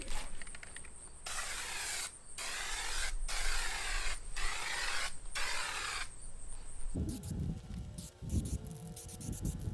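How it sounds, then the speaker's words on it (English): Spray can applying paint in thick passes to a steel truck bumper on a 2021 Ram 2500: loud hissing bursts about a second long, repeated four times with brief gaps between, then a steady hiss followed by shifting rattle and handling noise. "So you'll just spray a freaking thick line right just like that."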